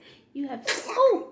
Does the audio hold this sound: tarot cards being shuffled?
no